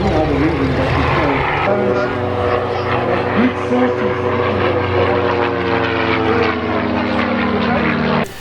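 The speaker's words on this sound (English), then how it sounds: "This plane was piloted by Andre Berger, a military veteran who showed his skill with this aircraft." A propeller-driven aircraft flies at the Stellenbosch Airshow 2022, its loud, sustained engine drone holding steady throughout with a strong harmonic hum, close by and continuous with no voices.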